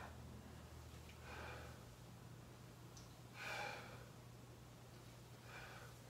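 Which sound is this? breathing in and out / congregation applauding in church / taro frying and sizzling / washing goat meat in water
breathing in and out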